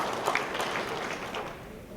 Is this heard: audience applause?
yes